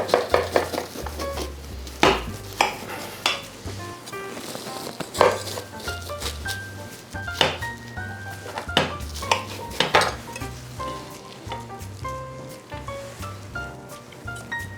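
A knife cuts into a baked brie topped with marmalade on a plate, giving repeated close clinks and scrapes of metal against crockery in irregular bursts, with no talk.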